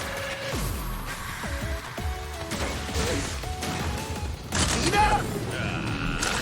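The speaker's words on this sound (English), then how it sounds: "That stupid cannon." In the video game Mega Man 11, a cannon fires repeated sharp blasts and crashes amid bleeping game effects and descending tones, with a spoken voice heard over the action.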